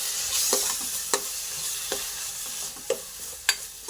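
Ground tomato, ginger and garlic masala sizzles softly in hot oil as a spoon stirs it, with a few sharp scrapes against the pan over the low frying hiss.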